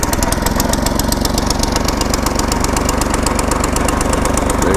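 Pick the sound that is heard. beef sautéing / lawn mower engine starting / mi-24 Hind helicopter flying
lawn mower engine starting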